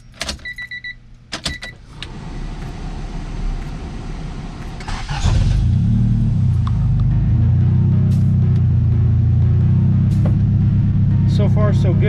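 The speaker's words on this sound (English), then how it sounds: "I try and start the car" A Honda B18C1 car engine cranks with a few short bursts, then catches and settles into a steady, loud idle rumble that runs to the end.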